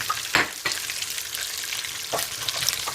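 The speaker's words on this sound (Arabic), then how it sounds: "هنا عندي يتحمس اللحم زين مثل ما تشوفون. بس هنا حاضيف الثوم" Meat sizzling in a pan for a Iraqi-style dried bean dish as garlic is added, a steady close frying hiss with a few sharper crackles and bursts.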